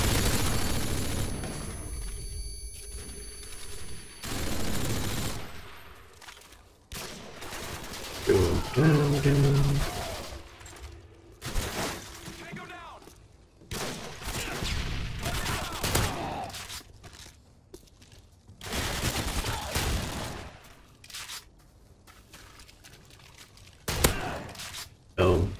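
An unsilenced M4 rifle in Call of Duty Modern Warfare 2 fires in repeated loud bursts, separated by quieter stretches in which someone talks over the game.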